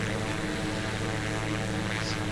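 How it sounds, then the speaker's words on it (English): Piper Comanche propeller engine in the A2A flight simulator drones steadily at cruise: a loud, even, continuous hum with a layered harmonic buzz and airflow rush, no voices. "Beautiful aeroplane to fly"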